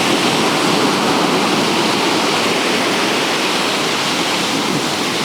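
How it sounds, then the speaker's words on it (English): Sea waves wash into a Devon cove in a steady, loud rush of broadband surf that fills the whole stretch without pause, close by and unbroken by any voice. "But these waves are really moving."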